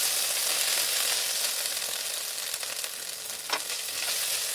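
Ginger and cumin paste frying in oil for pea dal, a steady hissing sizzle close up, with a brief stirring scrape near the end and no voices.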